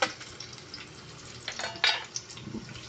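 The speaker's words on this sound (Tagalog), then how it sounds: "mikos-mikos hanggang sa lalabas ang kanyang aroma guys" Ginger is stirred while frying in a pan for a shrimp and vegetable coconut-milk dish, with soft sizzling and a few sharp scrapes of a utensil against the pan.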